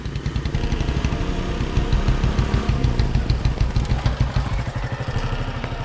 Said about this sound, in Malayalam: ബൈക്കിന്റെ സൗണ്ട് കേൾക്കുന്നുണ്ട്.